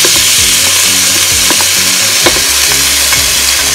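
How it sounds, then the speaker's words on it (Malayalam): Ginger, garlic and green chili paste sautéed with fried onions in a pan: loud, continuous sizzling close by, broken by repeated scraping stirs of a spoon against the pan. "ഇനി നമ്മള് ഇഞ്ചിയും വെളുത്തുള്ളിയും പച്ചമുളകും കൂടി അരച്ചത് ഇതിലേക്ക് ഇട്ടിട്ട്"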